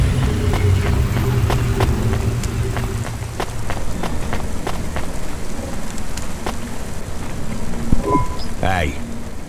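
Steady rain patters and hisses over a futuristic city street in Cloudpunk, with scattered sharp drips and knocks throughout and a short voice near the end.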